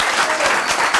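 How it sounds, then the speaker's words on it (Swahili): Audience clapping at the close of a Swahili comedy talk show, a dense, continuous burst of applause from a studio crowd, loud and close throughout. "Wapi makofi ya DNG?"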